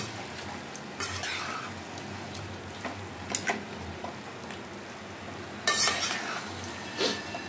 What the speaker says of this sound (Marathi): मटण बघा किती मस्त फ्राय होतंय।